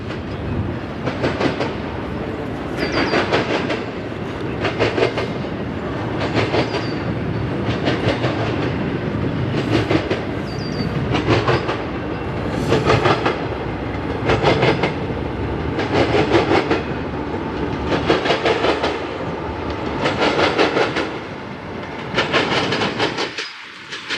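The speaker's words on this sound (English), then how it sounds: "once that train cleared a diamond" A train rolls past on the tracks through a railroad diamond crossing in northwestern Indiana, its wheels clicking in a steady repeating rhythm of loud bursts for about twenty seconds before stopping abruptly.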